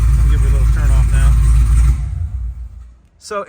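A modified 1000 HP 2018 Yenko Camaro engine rumbles loudly, then cuts off about two seconds in, its deep roar quickly decaying into near silence before a brief faint noise at the end.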